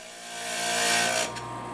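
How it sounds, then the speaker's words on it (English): A glass grinder briefly smooths the leftover ends of cut glass, giving a steady, close grinding rasp that swells and then eases off after about a second. "Then we'll just negotiate the leftover ends, introduce them to the grinder briefly"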